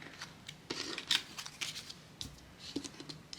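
Tarot cards being shuffled by hand, a series of soft, irregular papery riffles and slides at close range, quiet and without talk.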